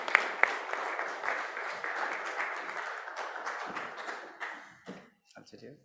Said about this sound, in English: Ladies and gentlemen, let's put a round of applause.